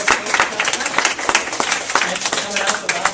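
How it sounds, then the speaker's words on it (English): A small crowd at a hockey happy hour coaches show in a burger restaurant gives a round of applause, dense close clapping that carries on steadily throughout. "let's have a nice round of applause to thank Matt and Chris"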